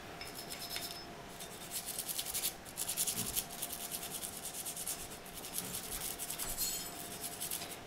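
A brush scrubs the back of a Smith and Wesson M&P Shield 9mm pistol where the shell casing rides, giving quiet, rapid rubbing strokes in bursts, close up with no talking.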